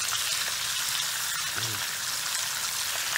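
Chicken frying in oil on a banana leaf over a village cookout fire, a steady broadband sizzle with faint crackle filling the whole moment, close and even, with a brief low voice murmur midway.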